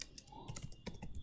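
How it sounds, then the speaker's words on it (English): Fingers typing an email message on a computer keyboard, a quick, irregular run of close, crisp key clicks with no talking. "message which I'm typing here is"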